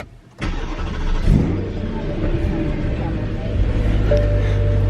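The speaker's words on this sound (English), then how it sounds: "I'm showing David the lack of cold start" A Porsche engine cold-starts, turning over and settling into a steady low idle, fairly close and moderately loud, with a faint voice briefly underneath.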